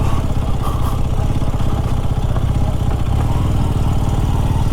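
A 48-year-old Honda street bike on slick tires rides through snow on a mountain: a loud, close, steady engine putter with a rough, clattering mechanical tone and no talk.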